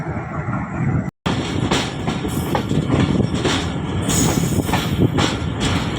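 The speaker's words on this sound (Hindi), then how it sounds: "तो दोस्तों ये चली गई 46 टाउन पाकिस्तान एक्सप्रेस खानेवाल और बावलपुर कराची की तरफ" Pakistan Express passenger train pulling out toward Karachi, loud and close, with steady rumble and repeated clickety-clack of wheels over rail joints after a brief cut near the start.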